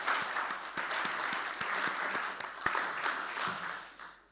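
Applause from a conference audience, a brief dense burst of many hands clapping with several distinct nearby claps, holding steady before tapering off.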